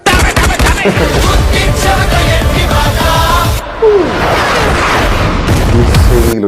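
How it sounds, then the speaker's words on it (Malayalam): Rapid bursts of gunfire from the movie Jailer 2 rattle loud and dense through the whole stretch, with a short break, then more crackling shots, with music and effects mixed in. "അടിയില്ല, വെടി മാത്രം."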